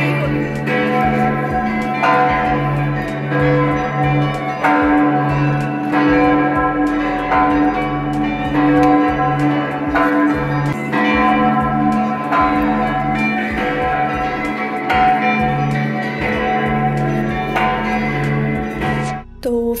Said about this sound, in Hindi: मुझे आवाज बहुत अच्छी लगती है बेल्स की साउंड